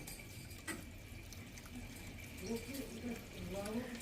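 Water begins trickling through the pipes of an Altep Duos 19 kW boiler heating system with a buffer tank, a faint, steady gurgling flow under quiet talk in the room.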